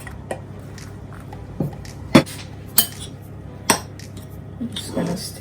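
A spoon stirs spicy chickpea stuffed-pepper filling into rice in a bowl, giving a handful of separate clinks and knocks against the bowl with soft mushy sounds between them, close and quiet, with no talking.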